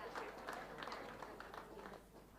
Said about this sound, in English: So a big round of applause for them for stepping up and supporting this team this year.